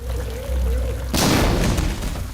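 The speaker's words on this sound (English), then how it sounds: "I like the new explosion sounds in this mod." A sudden loud explosion in a zombie video game mod bursts in after a humming, whining tone, followed by a dense crackling, rumbling roar of debris, close and without talk.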